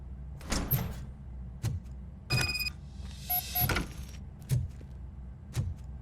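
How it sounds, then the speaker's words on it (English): A door in the RoboCop: Rogue City video game is worked open through a sequence of mechanical clunks, latch clicks and sliding thuds, spaced irregularly and heard up close without talking. "Now let me get that door open for you."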